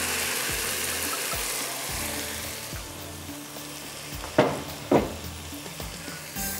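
Mash dal poured into hot frying masala in a pan, giving a steady sizzle with two sharper bursts of spitting near the end, close and fairly loud.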